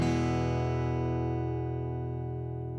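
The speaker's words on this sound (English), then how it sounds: "If all goes well, when you strum the strings, it should sound like this" A single strummed chord on an acoustic guitar rings out and slowly decays over a few seconds, quiet and unaccompanied.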